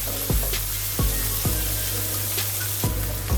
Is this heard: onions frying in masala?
yes